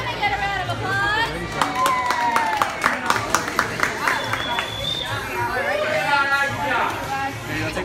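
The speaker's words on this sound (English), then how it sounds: "Can I get a round of applause?" A small group at Disneyland claps in a scattered round of applause, with sharp hand claps over excited chatter and talk.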